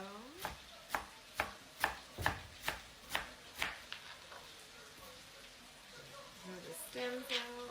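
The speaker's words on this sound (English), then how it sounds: "I'm going to get to cutting up my cilantro" A knife chops cilantro on a cutting board, about ten evenly spaced, crisp taps up close, then softer scraping and lighter cuts toward the end.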